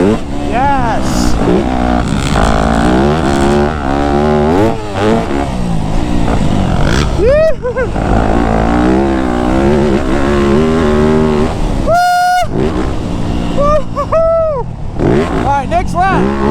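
Yamaha YZ250F dirt bike lapping a track with jumps, its engine revving up and down in rising and falling whines, close and loud, with a rider talking over it.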